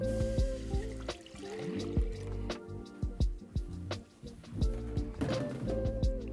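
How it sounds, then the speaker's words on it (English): Chicken broth is poured into a pot for grits in a kitchen, a soft trickling splash mixed with clinks and knocks of the container and pot, faint and uneven. "So first thing I'm gonna do is I'm gonna add 2 cups of chicken broth."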